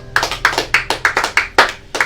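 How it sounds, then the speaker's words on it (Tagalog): A church congregation claps hands in praise during a Sunday worship service, about eight sharp, fairly loud claps in a steady rhythm that speeds up a little toward the end, with no voices over them. "palakpak ka sa ating Panginoon"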